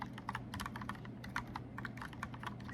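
Fingers type on a mechanical keyboard with round keys, rapid uneven clacking keystrokes close up and soft, with no talk.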